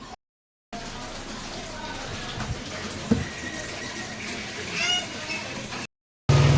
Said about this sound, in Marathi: आवरीजच्या बॉटल्स वगैरे या पण गरम पाण्यातून धुवून काढाव्या लागतात